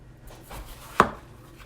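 A knife cuts through a yellow-fleshed watermelon, giving one sharp, close thunk after a soft scraping lead-in, with no other sound around it.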